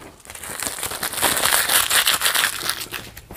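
A cardboard shipping box from Hot Topic is torn open in a close, loud burst of ripping and crinkling that runs for about three seconds with no talk.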